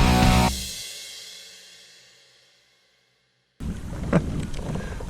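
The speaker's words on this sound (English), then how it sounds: "the wind had let up for a second, but got it back" Wind gusting over an open boat while fishing for bluegills, a loud broadband roar at first that fades to near silence, then returns abruptly as a steady rushing buffet against the microphone.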